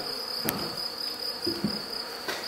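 Faint bee buzzing outdoors at a château, with a thin high steady whine and a few soft buzzes passing close, no talking.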